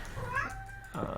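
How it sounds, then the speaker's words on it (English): A single drawn-out meow from a cat named Jellie, fairly close and rising then falling in pitch, with faint room noise around it. "Jellie, stop meowing."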